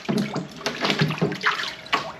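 Junction box swirled around in a tub of water, giving short splashing and sloshing bursts, close and fairly loud, with no talking.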